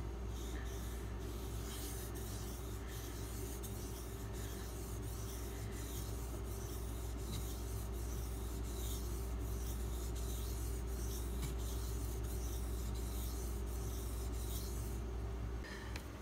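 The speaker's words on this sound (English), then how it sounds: "we just made 10 scratches or 10 passes on this side of the knife" A knife is sharpened with steady, repeated passes along its edge, a continuous rhythmic rasping over a low hum, close and even, with no speech.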